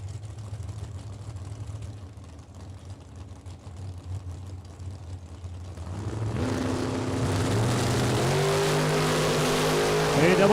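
Drag racing cars, including a Ford Mustang, launching on the strip during a time run session, a steady engine drone that swells into a loud, dense roar with rising revs around the midpoint, crowd and commentary murmuring underneath.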